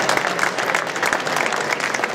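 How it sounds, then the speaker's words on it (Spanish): A crowd claps steadily and densely throughout, a continuous wash of applause with no pauses, at a talk at a retro computing event. "pues un aplauso"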